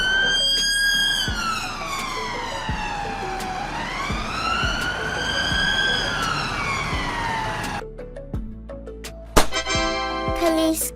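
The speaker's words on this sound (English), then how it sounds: "Police car." A police car siren wails alone, sweeping up and down in long smooth cycles, loud and steady, then switching to a faster yelping pattern near the end.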